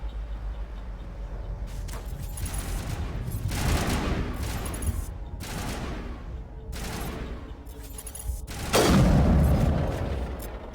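Rapid bursts of assault rifle fire in the video game Mass Effect Legendary Edition on Eden Prime, repeated volleys with booming impacts, loud and dense, swelling into a heavier blast near the end.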